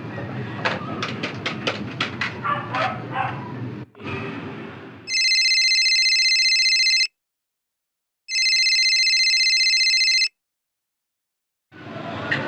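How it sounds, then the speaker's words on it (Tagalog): A telephone rings with two long electronic ring bursts separated by silence, loud and close, following a stretch of clattering noise and mechanical rattling, with the ringing starting again at the very end. "Tatawagan ako si Mr. Lee"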